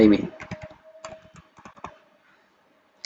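Keys tapped on a computer keyboard while filling in an LLC business purpose on a form, a few quick bursts of clicks close up with a faint tonal hum, then a pause and a final tap.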